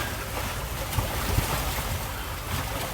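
A sailboat moving over smooth seas: a steady wash of water and wind noise at an even level, with a couple of faint knocks. There is no talk.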